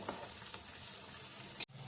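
Vegetable fritters (bora) fry in hot oil in a wok, a steady close crackling sizzle that cuts off sharply near the end.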